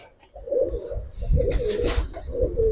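A Giribaz flying pigeon cooing nearby in soft, low, throaty repeated calls, clear against a quiet background.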